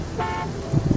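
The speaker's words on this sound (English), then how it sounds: "the car behind me is still flashing his lights and honking his horn" A car horn sounds once as a short, loud toot in an animated scary story, followed by low rumbling.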